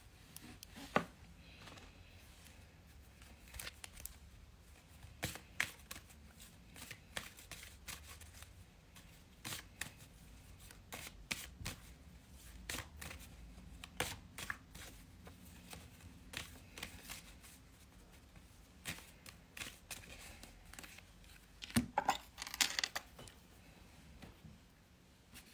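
Tarot cards being shuffled during a live reading session: quiet, repeated papery riffles and taps scattered through a long stretch, with a denser cluster of clicks near the end, close and faint.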